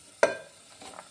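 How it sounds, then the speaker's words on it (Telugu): Onions and cashews frying in ghee, a stir that sets off one sharp sizzling hiss that fades quickly, followed by a softer scrape, close up with no talking. "ఇప్పుడు ఆనియన్స్ కొంచెం ఫ్రై అయ్యాయి కదా"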